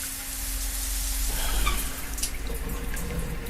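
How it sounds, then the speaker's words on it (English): Water runs steadily in The Last Door video game, a continuous close hiss like a tap or small stream with faint dripping accents and no talk. "The sound of water."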